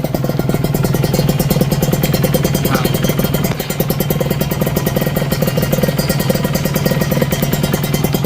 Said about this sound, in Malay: Okey, enjin pun bunyi senyap ah.